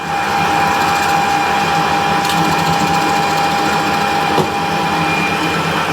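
A Harrison 12-inch swing lathe takes a test cut with a cheap cutter, a steady loud mechanical whir with a clear high tonal whine held throughout, plus a couple of faint ticks.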